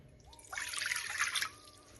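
Chilled water pours into a bowl for dumpling dough, a short close splashing trickle of about one second between quieter kitchen background.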